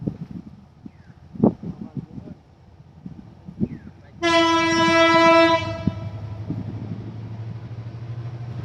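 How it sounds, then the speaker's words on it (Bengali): A long train passing close by, its loud horn blaring for over a second above the rumble of wheels and wagons, with a person talking before it arrives. "ওই যে রেল আসতেছে"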